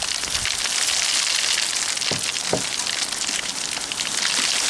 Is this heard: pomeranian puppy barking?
no